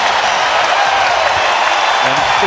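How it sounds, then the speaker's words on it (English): An arena crowd at a Warriors basketball game gives Draymond Green a standing ovation, a dense steady roar of applause and cheering, loud and continuous throughout. "the crowd is going to give Draymond Green a standing O"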